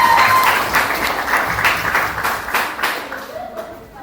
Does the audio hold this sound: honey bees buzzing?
no